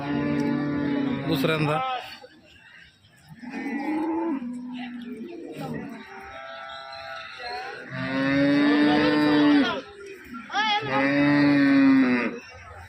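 Cows at the Loni cattle market lowing repeatedly, several long, loud, close moos separated by short pauses, with background murmur from the market.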